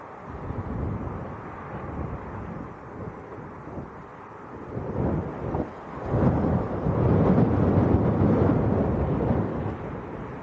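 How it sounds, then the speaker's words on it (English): Wind buffets and roars at Leeds Bradford Airport, a loud low rumbling gust that swells and strengthens toward the end, with no voices. "The wind's coming from about 280 direction."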